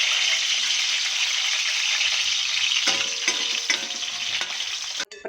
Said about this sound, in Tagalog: Prituhin yung patatas at carrots